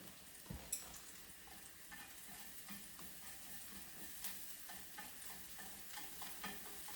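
Garlic frying in a pan as the base for a celery and beef stir fry, giving a steady soft sizzle with light stirring scrapes and a few small clicks, quiet and even throughout.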